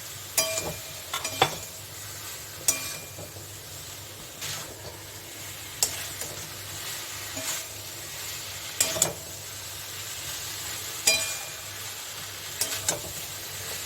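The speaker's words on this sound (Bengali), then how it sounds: "এটা এখন এতে দিয়ে আমি একটু এটা একটু কষিয়ে নেবো" Onion, potato and drumstick pieces being stir-fried in a pan for a spicy chorchori, with a constant sizzle broken by regular scraping strokes and metallic clinks of the spatula, close up with no talking.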